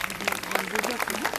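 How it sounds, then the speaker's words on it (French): Audience applause for a raven at an outdoor falconry show: a short burst of scattered clapping from a crowd, moderately loud, with a person speaking over it. "je vous demande d'applaudir Mademoiselle Nala"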